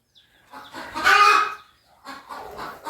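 Hens clucking in a backyard poultry coop, two bursts of close, loud fowl calls with a short pause between them.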